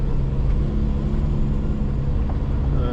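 A four-wheel drive vehicle creeps down steep Newmans Track, its engine a steady low rumble and drone held close throughout, with faint scrapes but no voices.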